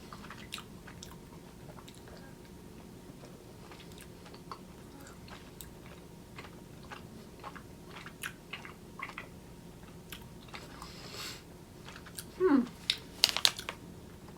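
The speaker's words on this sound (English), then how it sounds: "it's actually really easy to chew as well" Soft, repeated chewing of Jolly Rancher gummy candy, apple flavor, with small wet squishes and clicks in an irregular rhythm, close and quiet, ending in a few louder bites and crunchy snaps.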